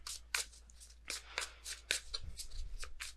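Tarot cards are shuffled and drawn in a quiet room, giving a run of quick, soft riffling bursts and flicks, close and faint, with a low hum beneath.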